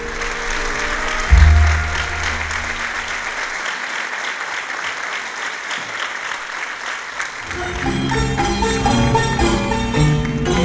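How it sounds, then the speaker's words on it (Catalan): Loud, sustained applause from a crowd at a Valencian falla presentation ceremony, with a burst of cheering near the start and music swelling in toward the end. "Així que demane un fort aplaudiment per a la reina de la falla infantil"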